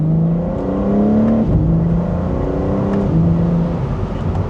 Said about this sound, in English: So let's go to second gear. We might be able to hear the exhaust a little bit better.